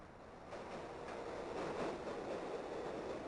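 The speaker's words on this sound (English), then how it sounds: "Wow, and it has a fucking working train." A working subway train rolls along its rail in a Half-Life map built for The Specialists mod, a steady, dense rumble with a faint clatter that holds level the whole time.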